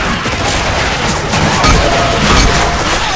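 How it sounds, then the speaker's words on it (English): Loud, dense gunfire from a video game, a continuous fusillade of overlapping shots and booms filling the whole stretch with no pause, with no voices over it. "You're shooting!"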